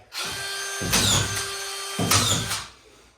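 Power drill driving screws through plasterboard into a ceiling, a close, whining motor buzz in two bursts with a brief pause between, each ending as the screw seats.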